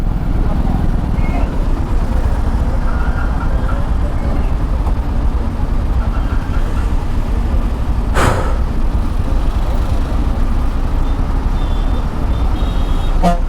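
Dense, loud road traffic around a motorcycle near road construction, with constant engine roar from trucks, cars and bikes and a sharp horn blast midway, plus other short horns, while someone talks over it.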